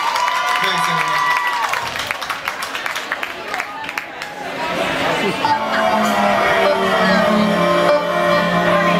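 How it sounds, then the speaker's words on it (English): Audience applause at a live music event, a dense burst of clapping with some cheering that swells and carries on, mixed with a voice and crowd chatter. "Big round of applause"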